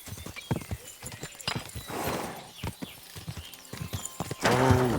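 Rhythmic clip-clop of horse hooves at a steady pace in the video game Kingdom Come: Deliverance II, ending in a loud, close whinny.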